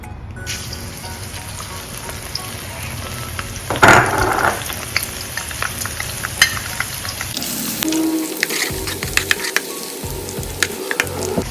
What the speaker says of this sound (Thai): เมื่อฟองของน้ำมันเริ่มลอยขึ้นมานะคะ เราก็ใส่ กระเทียมเลยค่ะ